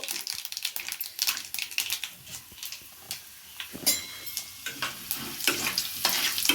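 Mustard seeds, chana dal and urad dal sizzling in hot oil for a flat bean stir-fry, a dense crackle of rapid pops and spits that grows busier and louder toward the end, with no speech.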